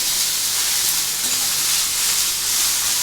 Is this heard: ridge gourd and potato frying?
yes